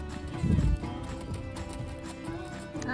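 A 20-year-old horse walking near fence rails, with a few soft hoof clops close by against a quiet outdoor background.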